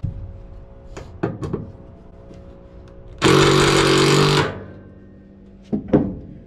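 A POPOMAN impact driver drilling through thick steel whirs loudly for about a second amid scattered clanks and knocks of metal handling nearby.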